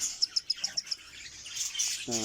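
A quick run of about seven thin, high chirps from a cockatiel at a cockatiel farm, followed by softer scattered chirping, close but quiet.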